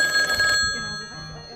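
A telephone rings briefly with a bright electronic trill that cuts off after about half a second, followed by quiet indoor room noise.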